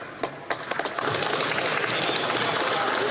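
Applause fills the House of Commons chamber after a tribute in Parliament, a few scattered claps swelling within a second into steady, dense clapping from many members that holds to the end.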